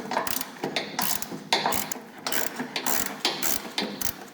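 A hand ratchet loosens a bolt on a MUSKOX 26-84 snowblower, clicking in quick repeated bursts of pawl ticks with a steady back-and-forth rhythm, close and clear.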